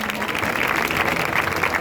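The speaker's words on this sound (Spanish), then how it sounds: "Un aplauso para él, muchas gracias" Audience applause at a Valencian falla presidents' presentation event, a steady wash of clapping lasting under two seconds at even loudness, with faint background voices.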